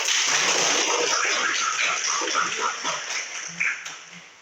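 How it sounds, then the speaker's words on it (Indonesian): Classroom applause during a lesson, a dense burst of many hands clapping that gradually thins and fades out, with a few children's voices mixed in toward the end. "Tepuk tangan."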